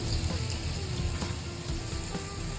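Garlic and asafoetida crackle and sizzle in hot oil as a tempering for a bitter gourd dish, a dense, steady frying hiss heard up close with faint stirring touches.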